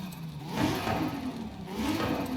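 A Datsun 240Z with a single-turbo RB engine in Forza Horizon 5 revs and accelerates, a mid-pitched engine whir rising and falling twice over a couple of seconds, fairly quiet and heard alone.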